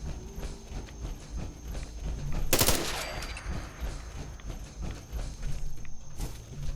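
Rifle gunfire in modded Fallout 4, a series of moderately loud shots with one sharp close crack standing out amid steady background ambience and scattered lighter pops.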